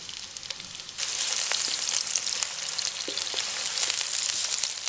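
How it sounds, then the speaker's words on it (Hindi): Sliced onions dropped into hot cooking oil for meatballs, a sudden jump into a loud, steady hiss and crackle that holds evenly, with faint clinks of a spoon, close to the pan. "अब ऑयल गर्म हो गया, इसके अंदर ये प्याज के स्लाइसेस ऐड कर देती हूँ"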